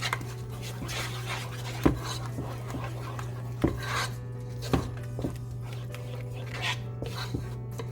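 A spoon stirs macaroni and cheese seasoned with black pepper and garlic salt in a pot, giving irregular scraping knocks and rubs over a steady low hum, with no talking.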